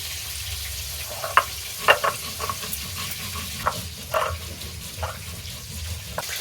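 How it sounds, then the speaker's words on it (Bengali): Fish frying in hot oil in a wok, a low continuous sizzle broken by sharp crackles and spatters at irregular moments, close and with no voices. "তেলটা গরম হয়ে গেছে এবার কড়াইতে আমি মাছটাকে ভেজে নেব"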